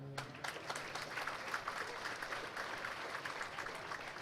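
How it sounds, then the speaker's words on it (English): An audience applauds at a Hall of Fame ceremony for Carson-Newman athletics, a steady wash of clapping that starts with a few scattered claps and fills in for several seconds, fairly distant and moderately loud. "How about a round of applause for all the Hall of Famers in attendance tonight?"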